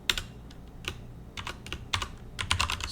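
Rapid bursts of keystrokes on a computer keyboard while code is being typed, close and clear, in uneven clusters of quick taps with short pauses between.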